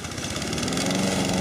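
A new lawn mower runs steadily while cutting thick grass on a school soccer field, its engine giving a loud, continuous drone throughout with no talking.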